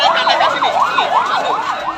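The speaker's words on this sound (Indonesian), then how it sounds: "ambulan." An ambulance siren wails in fast, repeating rising-and-falling sweeps, loud and close and heard on its own, at the scene of a road crash where a minibus collided with several motorcycles.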